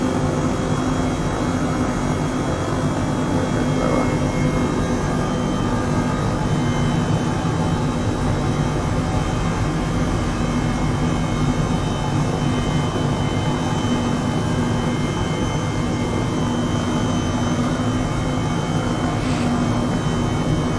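Steady loud turbine whine and rotor drone of an Airbus H135 helicopter in Microsoft Flight Simulator 2020, flown in VR, a constant close engine roar with faint tonal hum and no talking.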